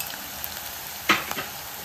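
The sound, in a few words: onions, green chillies and curry leaves frying in oil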